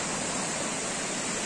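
Natural spring water flowing at the El Mamey bathing resort in Mecatán, Nayarit, a steady close rush of running water filling the short stretch without pause.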